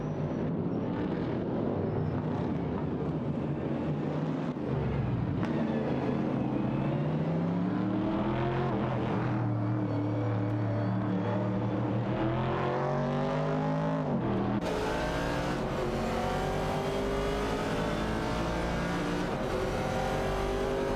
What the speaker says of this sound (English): N4RKSXX in the Dodge Challenger is fighting hard against Bluegrass Railfin in the Chevrolet Camaro 70 for the 10th position